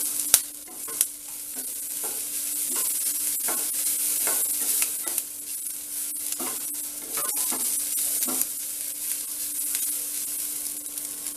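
Grated coconut with a little turmeric fries in a pan for a prawn curry, giving a steady soft sizzle broken by scraping stirs and spoon taps, close and continuous with no speech.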